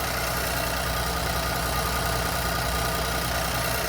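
A 2014 Jeep Compass turbo engine idles with a steady, dense mechanical hum and broad hiss, loud and close, with no voices.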